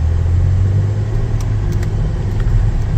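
Chevrolet Traverse Premier Redline Edition SUV with a 6-cylinder engine pulling away on a test drive, a steady close mid-pitched engine drone and low road rumble with a few faint clicks and no talking.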